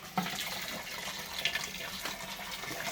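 Warm water running from a tap while homebrew beer equipment is sterilised: a steady, hissing stream with light splashes throughout, moderately quiet and close, with no talking.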